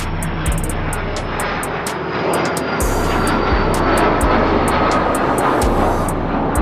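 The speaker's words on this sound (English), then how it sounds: "He looked out the window as the plane took flight." An airplane engine roars steadily with a broad, loud rush and a low droning hum, heard close as if from inside the cabin during takeoff.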